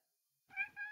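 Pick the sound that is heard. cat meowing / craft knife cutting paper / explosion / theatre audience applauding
cat meowing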